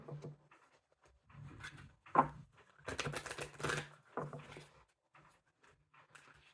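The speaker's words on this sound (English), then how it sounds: "One more shuffle." Quiet, close rustling and flicking of cards being shuffled in irregular bursts.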